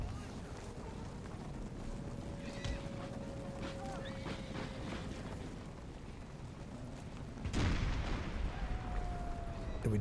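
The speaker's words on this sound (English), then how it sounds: "Let the cannons continue to try to go after them." Cannon artillery in an Empire Total War battle booms in a loud burst near the end, set against a continuous noisy battlefield din with a faint tonal whine, and no talk over it.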